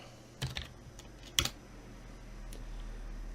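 Keys tap on a computer keyboard while a password is entered, a few sparse distinct clicks over a quiet room hum, alone with no speech.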